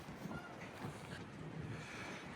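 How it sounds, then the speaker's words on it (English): Strong wind buffets a Rivian parked on a road trip in below-freezing weather with freezing rain, a steady low roaring rush that fills the whole stretch without pause. "it has been windy"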